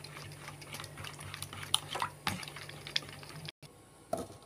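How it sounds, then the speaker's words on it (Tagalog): Milk being stirred into a bread pudding mixture in a bowl, with soft liquid swishes and several light clinks of a utensil against the bowl, quiet and close, with one brief break. "Haluin natin ng haluin."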